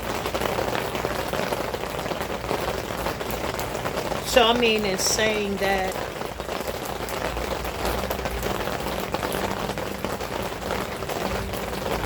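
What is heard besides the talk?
rain falling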